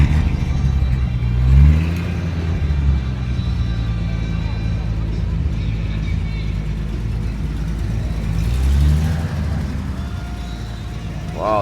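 Oldsmobile car engine at an evening car show, rumbling to life and revving in a couple of swells, heard amid outdoor crowd chatter and nearby talk.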